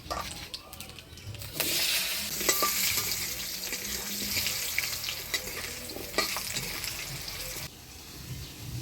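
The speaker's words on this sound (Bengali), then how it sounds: "ফোড়নের তেলে আলুটা নাড়াচাড়া করে নিলাম" Potato pieces stirred in hot oil tempered with nigella seeds and dried chilli, a loud sizzle that swells after a quieter start, with scraping strokes and clicks of the spatula throughout.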